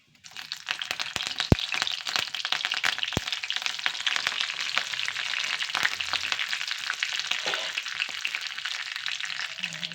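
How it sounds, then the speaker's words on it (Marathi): Cumin, mustard seeds and curry leaves hit hot oil with a loud, steady sizzle, with crackling pops scattered through it and a few sharp spatters near the start. "तेलसुद्धा गरम झालेलं आहे त्याच्यामध्ये आम्ही जिरं मोहरी घालून घेऊया त्याच्यामध्ये आम्ही कढीपत्ता टाकूया"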